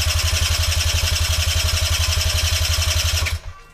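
Sinnis 50cc moped engine cranking over without catching, a fast steady rhythmic chugging of the starter held close and loud for over three seconds before it abruptly stops.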